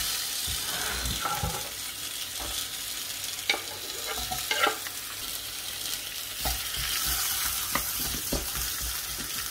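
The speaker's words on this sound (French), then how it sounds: "On va les faire revenir dans une poêle avec un peu d'huile d'olive." Zucchini rounds fry in olive oil in a pan, giving a steady close sizzle with occasional stirring clinks and scrapes, and no voices.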